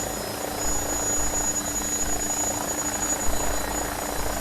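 An AgustaWestland AW109SP wheeled helicopter runs steadily up close, a constant broadband rotor and turbine roar with a faint high whine, and no talking.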